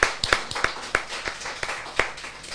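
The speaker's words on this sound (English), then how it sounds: "you two guys need a round of applause anyway for what you're doing" A few people at an adult education and wellbeing event clap sparsely, with about eight distinct, fairly loud hand claps spaced irregularly and no other sound.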